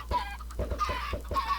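Chickens cluck in a Minecraft game, a run of short, choppy clucks repeating several times over a little under two seconds, fairly close and clear with no talking.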